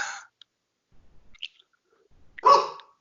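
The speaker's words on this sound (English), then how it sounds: "I have no idea who Tommy and Nola are barking at right now" Two dogs, Tommy and Nola, give a short bark at the start and a louder bark near the end, with a few faint yips in between, indoors and fairly close.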